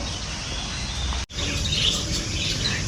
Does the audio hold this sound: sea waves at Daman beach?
no